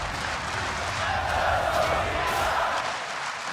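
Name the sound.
crowd cheering at League of Legends match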